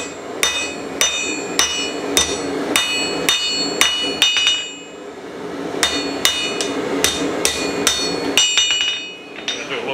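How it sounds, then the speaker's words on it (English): A blacksmith strikes hot metal held over the fuller on the anvil, loud ringing hammer blows landing close and in a steady rhythm, with short pauses between two runs of strikes. "I'm hanging it off to the fuller, off the anvil."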